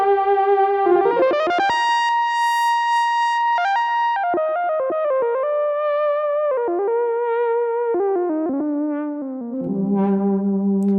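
An Arturia AstroLab stage keyboard plays a bright analog-style synthesizer lead, a gliding, pitch-bending melody of sustained notes with wavering vibrato and echoing tails, loud and alone.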